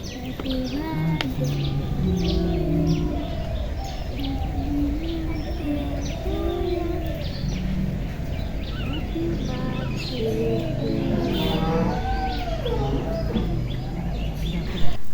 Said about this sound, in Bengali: আমাদের গ্রামের চারিপাশে হাঁস মুরগি ছাগল গরু পাক পাখালি সব কিছুর একটা কিচিরমিচির আওয়াজ আসছে